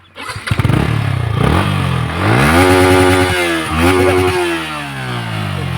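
A motorcycle engine revs up loudly and close by, climbing in pitch, dipping, then rising again before settling into a steady roar.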